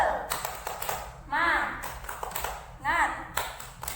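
Classroom pupils in a micro-teaching lesson doing the rhythmic clapping chant, quick sets of claps alternating with loud group shouts, near and lively, with the teacher's voice leading between them.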